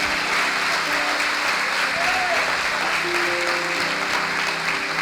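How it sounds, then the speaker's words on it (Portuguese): A church congregation claps together in sustained, dense applause, loud and even throughout with voices faintly mixed in the crowd. "Então aplauda o Senhor"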